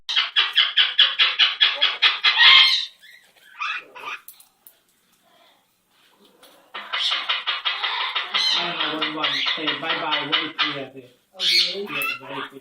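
A pet parrot vocalizes in bursts of rapid, raspy squawks and chattering calls, loud and close, separated by brief pauses.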